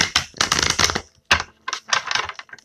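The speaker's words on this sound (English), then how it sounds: "Gonna shuffle this one more time." Tarot cards being shuffled by hand, two quick bursts of crisp riffling and flicking close to the microphone, split by a brief pause.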